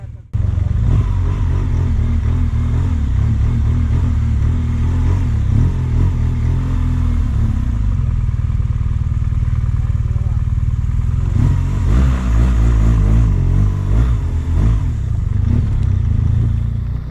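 A heavy motorcycle labours up steep slopes in Cusco, its engine droning steadily close by for the whole stretch, swelling into a louder rev near the end, with a voice talking over it.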